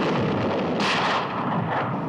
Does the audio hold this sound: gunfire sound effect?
yes